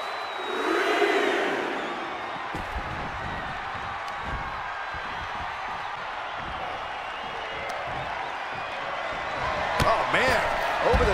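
Arena crowd in the WWE 2K24 wrestling video game, a steady roar of cheering with swells, punctuated by thuds and slams from the ring while commentators talk over it.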